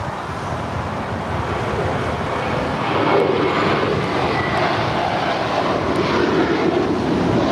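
Airliner roaring down runway 25 right at LAX on takeoff, a broad, steady jet rumble heard from a distance, growing slightly louder midway, with wind noise mixed in and no voices.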